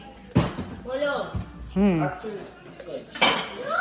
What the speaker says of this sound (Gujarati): મમ્મી વાસણ ધોવે છે